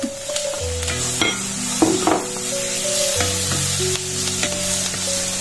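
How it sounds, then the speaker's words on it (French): Pre-cooked mushrooms tipped into a hot pan with lentils nearby, a loud continuous sizzle and crackle with a few sharp clinks of utensil on the pan and steady tonal hum underneath. "Là, je vais ajouter mes champignons que j'ai déjà cuits"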